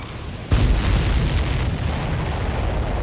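A missile explosion destroying a fuel tanker in the Ace Combat 7 pipeline destruction mission, a sudden heavy boom followed by a loud, rumbling roar that lingers and slowly settles over a low background drone.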